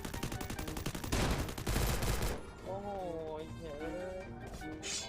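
Rapid bursts of Free Fire video game gunfire crackle through the first half, then fade as voices talk over a busy game soundscape.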